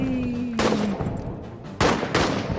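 Gunfire from a trench warfare video game: a couple of sharp broadband bursts ring out over a steady noisy battlefield background, with a falling whistle-like tone fading early on.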